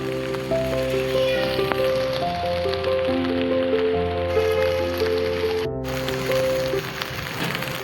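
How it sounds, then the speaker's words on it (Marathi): Rain falls steadily around someone walking alone with an umbrella in the early evening. It makes a soft, continuous patter and drip, partly under sustained music-like tones. "किती सुंदर पाऊस सुरू आहे."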